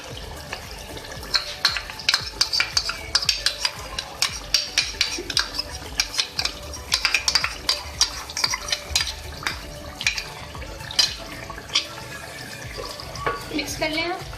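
Yogurt is stirred into Mughlai chicken in a pan, with steady scraping and wet stirring under a light sizzle, close and continuous, while someone talks over it.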